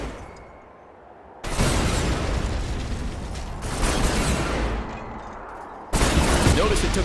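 Zone troopers in the real-time strategy game Command & Conquer 3: Tiberium Wars pound a damaged building. Loud sustained bursts of weapon fire and blasts arrive in three long waves with short quieter gaps between them.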